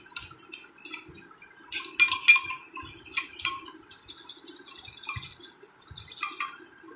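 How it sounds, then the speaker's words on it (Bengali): A spoon stirs gram flour and water into a facial cleanser paste in a bowl, giving repeated light clinks and scrapes against the rim in an uneven rhythm, close and fairly soft with no talking. "ভালো করে এটাকে ঘেটে নিতে হবে যাতে এর মধ্যে গোটা গোটা বেসনগুলো না থাকে"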